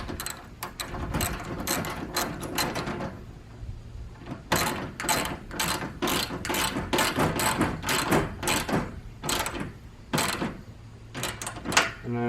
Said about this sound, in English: we're just putting another nut right over top of that and making sure that one is also nice and tight